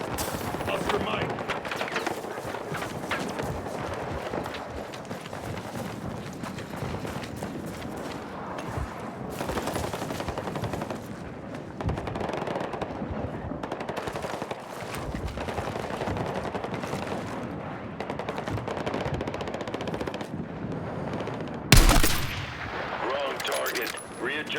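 Sustained battlefield gunfire from a Battlefield 6 campaign mission, dense bursts of machine gun fire running continuously with a sharp, louder blast near the end, while voices call out over the shooting.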